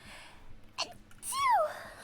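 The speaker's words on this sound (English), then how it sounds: "Oh, I'm gonna sneeze." A single sharp sneeze rings out after a quick inhale, close and fairly loud, followed by a short rising vocal sound.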